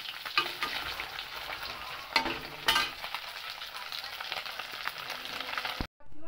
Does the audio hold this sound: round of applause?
no